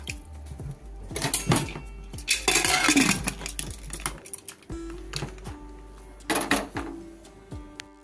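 A metal wok set down on a kitchen stove while cooking a mutton curry, giving a few clanking, scraping knocks amid steady low background hum, with no talking.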